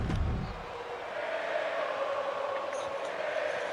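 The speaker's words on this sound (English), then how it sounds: "The crowd here chanting for Gable here." Arena crowd in the WWE 2K23 wrestling game, a dense sustained roar of many voices with a steady chant-like tone running through it, loud and continuous from start to finish.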